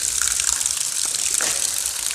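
A swollen stream on a rainy day rushes and gushes loudly and steadily near the listener, a broad continuous wash of water with no clear voices.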